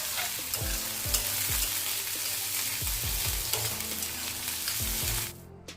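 Chopped onion frying with ginger garlic paste in a home kitchen pan, a steady dense sizzle with periodic stirring scrapes, close and fairly loud throughout before cutting off abruptly near the end; no talk.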